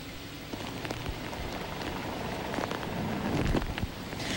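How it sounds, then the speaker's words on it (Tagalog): Heavy typhoon rain pounding steadily on surfaces in Baguio City as Typhoon Lando strikes at night, a dense continuous wash with gusting wind and occasional louder splashes. "Mas lalo pang lumakas ang hihip ng hangin at ulan nang sumapit na ang dilim sa lungsod ng Baguio."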